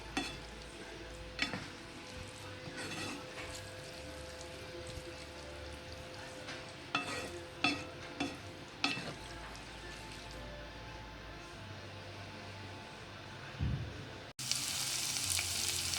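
Garlic and onion sauté in a little oil in a pan, a faint steady sizzle broken by occasional stirring clatters and scrapes, followed by a sudden louder burst at the end.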